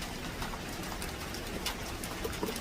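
Steady rain falls on a garden of banana, tomato and scotch bonnet pepper plants, a constant soft hiss of drops with faint bird calls and cooing doves mixed in the background.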